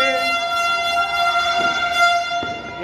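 A long, steady horn blares from City Hall at New Year's midnight, a sustained multi-tone blast heard from a distance over faint crowd noise.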